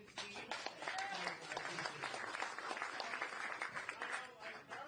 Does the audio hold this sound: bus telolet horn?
no